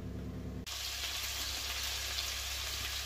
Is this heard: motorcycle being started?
no